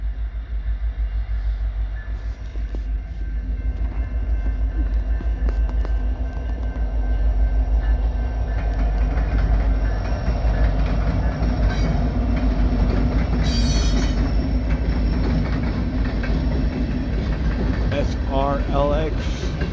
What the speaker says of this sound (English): I believe this is an empty coal drag coming into Hobson Yard off the Creston sub.